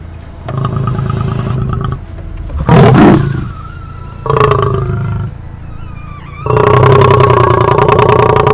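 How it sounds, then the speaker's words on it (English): A male lion growls and roars in several long, deep, rough bursts separated by brief pauses, loud and close. "He later keeps growling and shows them how angry he is right now"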